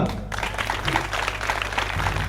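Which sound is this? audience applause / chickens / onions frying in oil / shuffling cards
audience applause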